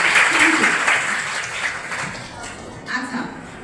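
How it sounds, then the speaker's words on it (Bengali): Applause for a child at a dengue-prevention and child-marriage awareness event in Gauranadi, Barishal, a short burst of clapping from a small group that fades under talk. "ওর জন্য একটা হাততালি।"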